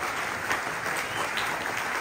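An audience applauds a storyteller at a strong-beer festival, with dense, even clapping that sounds somewhat distant and steady throughout, and no talk rising above it.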